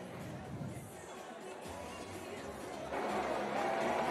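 Distant crowd murmur and babble at the canoe sprint world championships in Szeged, Hungary, a faint, diffuse hubbub that swells slightly louder toward the end.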